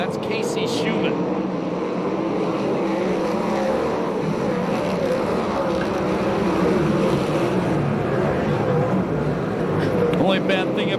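USAC and CRA sprint cars racing on the dirt oval at Perris, a continuous roaring drone of engines passing at a distance beneath steady race commentary.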